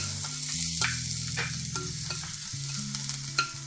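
Finely chopped garlic hits hot oil for a soup of fenugreek leaves and bottle gourd, giving a steady close sizzle with spoon stirring and a few sharp clinks against the pan, and no voices.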